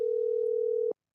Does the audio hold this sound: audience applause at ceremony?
no